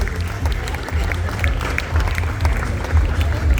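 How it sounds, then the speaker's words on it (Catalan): A crowd applauds with scattered, uneven clapping, moderately loud, with some voices mixed in. "Un fort aplaudiment per la Lídia"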